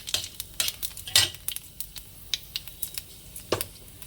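Panch phoron spices dropped into hot oil in a pan, giving a string of sharp crackles and pops with light clinks of a utensil, close and irregular over a quiet background.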